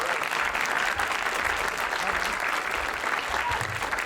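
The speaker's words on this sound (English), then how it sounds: "keep that applause going" An awards-night audience applauds a winner with a full, steady burst of clapping from many hands, with some voices audible beneath it.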